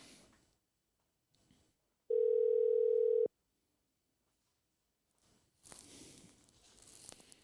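A steady telephone dial tone holds for about a second as a call is placed to a guest, loud and alone, with muffled studio chatter and rustling before and after.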